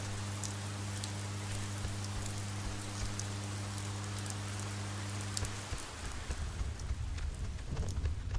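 Steady rain in the video game Oxenfree, a constant hiss with a low hum beneath that cuts out near the end, leaving rougher, uneven rain noise.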